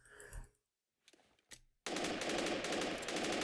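Machine gun in the war game Men of War Assault Squad, with a few short bursts followed by a sustained rapid burst of loud automatic fire.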